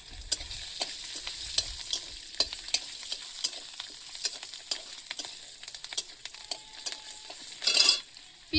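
Whole garlic cloves and slit green chillies fry in hot oil with a steady, close sizzle, punctuated by frequent stirring clicks and a brief louder crackle near the end, with no talking.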